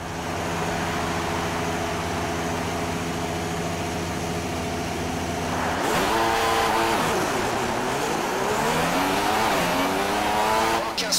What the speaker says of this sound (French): Alors que les pilotes se mettent en place pendant ce tour de formation, il faudra bien mettre en température, notamment les freins